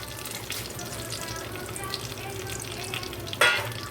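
Black cumin seeds and bay leaf sizzle in hot oil for a spicy pabda fish curry, a steady close frying hiss with a sharp louder crackle near the end and no voices.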